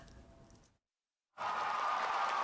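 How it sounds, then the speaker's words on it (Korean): Loud, sustained crowd roar fills the space after a brief silence, a broad wash of cheering voices that holds steady at full volume. "관중석에서 함성이 쏟아집니다"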